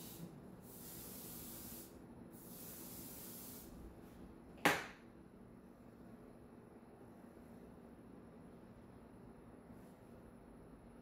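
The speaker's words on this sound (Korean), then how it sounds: "나도 그냥 머리 저 스프레이로 한번 더 조져야겠다" Hair spray is sprayed onto hair in several soft hissing bursts from a nearby aerosol can, followed by one sharp click, then quiet room tone.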